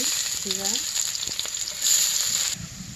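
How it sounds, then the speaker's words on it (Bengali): Chopped onions frying in ghee for a mock fish curry made without fish, a steady broadband sizzle with a few light stirring clicks, close and loud, ending in a sudden drop as the sizzle quiets. "একটু ঘি দিয়ে দিব পেঁয়াজ কুচি"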